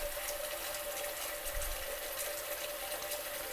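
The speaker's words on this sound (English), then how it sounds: "Water coming out of the tap." Tap water running steadily during a homebrew day for an amber ale kit, a constant hissing flow at close range with a faint low bump midway and no talking.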